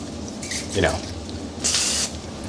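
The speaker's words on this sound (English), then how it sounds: "you can use that 0-calorie cooking spray just to get a very, controlled amount of butter on the bun" Zero-calorie cooking spray hisses onto burger buns before toasting, two short bursts of spray heard close, with a brief clatter between them.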